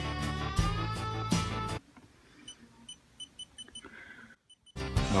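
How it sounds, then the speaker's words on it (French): Faint electronic beeps sound from key presses on a Tactys Slim 711 tempered-glass touch keyboard, a series of short, evenly spaced tones after a stretch of loud music. "il est équipé de bip que l'on peut régler plus ou moins fort"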